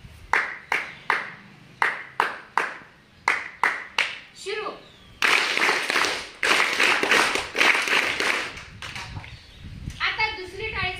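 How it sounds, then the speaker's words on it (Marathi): A teacher claps a welcome rhythm, sharp, close hand claps in quick groups of three and four, followed by a burst of noisy applause and cheering from a group, with a voice speaking briefly at the end. "मी माझ्यासाठी स्वागत टाळी वाजवते"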